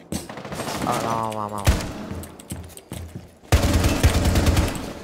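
Gunfire in a shooting video game comes as bursts of sharp, loud shots, with one heavy blast near the middle and a dense volley toward the end, while someone talks over it.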